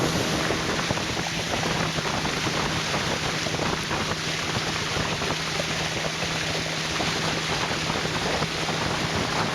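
A riverboat cruising on a high-water river in Taman Negara, Malaysia, its steady engine drone and rushing water and wind filling the whole stretch at an even, constant level.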